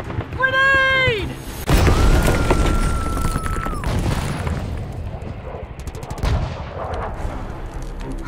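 Grenade blast and gunfire in a wartime skirmish from a trailer for the board game RISK Shadow Forces: a loud burst with a sustained roar, layered with shots and dramatic score, following a shouted voice.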